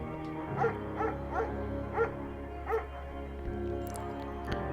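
A German Shepherd in the video game Firewatch barks over a low ambient game backdrop, sounding about five separate woofs at uneven intervals. The barks are moderately close with no talking.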